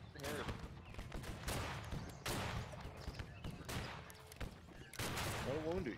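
Musket volleys in the Civil War video game Battle Cry of Freedom, dense overlapping shots and crackling fusillades in bursts across the whole stretch, with voices chattering underneath.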